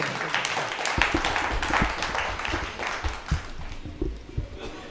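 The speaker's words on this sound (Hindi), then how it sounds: "एक बार पुनः जोरदार तालियों के साथ आमंत्रित करिए आदरणीय" A live audience at a Hindi poetry recital claps to welcome poet Pankaj Angar, a dense, fairly loud patter of many hands that thins slightly toward the end.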